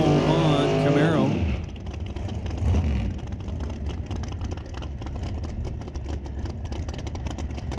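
A pro mod Camaro drag car on a qualifying run at an NHRA event screams loudly at the start and sweeps downward as it passes, followed by a rough, rumbling engine noise that continues at a distance.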